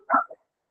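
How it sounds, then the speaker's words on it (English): A single short bark from a dog outside, one quick yip followed by a smaller trailing note, clear and isolated against silence. "apologize for the dog barking outside"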